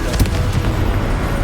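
A brief, loud Confringo explosive spell from Hogwarts Legacy: a dense, booming blast with crackling bursts that fills the whole short moment.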